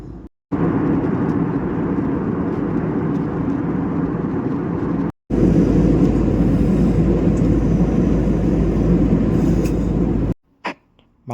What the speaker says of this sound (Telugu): టేక్ ఆఫ్ అయ్యి అయితే 10 నిమిషాలు అవుతుంది.